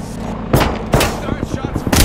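Gunfire in the Apex Legends battle royale video game, with several sharp loud shots at irregular intervals and a burst near the end, over a busy background of game sound.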